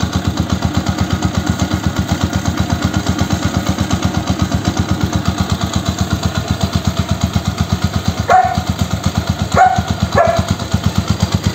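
A Yamaha YTX 125 motorcycle engine idles steadily while warming up, with a fast, even putter throughout, and a few short sharp squeaks or chirps break in near the end.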